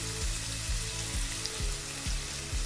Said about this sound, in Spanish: Ahora dejamos que la harina rehogue un poco para que pierda el sabor a crudo